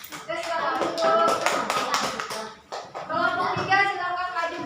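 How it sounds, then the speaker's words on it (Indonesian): Schoolchildren in a classroom clap for a group of classmates in quick, scattered bursts, mixed with voices talking over the applause, in two waves separated by a brief lull. "Tepuk tangan dulu untuk kelompok 2"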